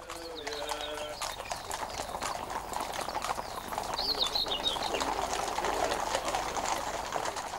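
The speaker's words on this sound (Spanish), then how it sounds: "La procesión a lomos de caballo es una de las costumbres preferidas por los orbios." Horses' hooves clip-clop steadily in a horseback procession at Easter in springtime Europe, a dense rhythmic clatter of many riders passing close by, with birds chirping faintly above it.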